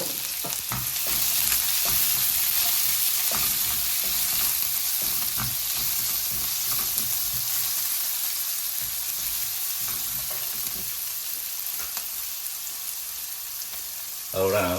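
Onions fry in hot oil in a pan for a squid curry, giving a steady, loud, close sizzle with occasional stirring scrapes and clicks throughout.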